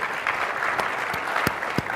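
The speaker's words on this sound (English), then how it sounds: "You can clap. It's okay." A tech conference audience gives brief, steady applause during a product demo, with a few sharper claps standing out close by over the continuous clapping of the crowd.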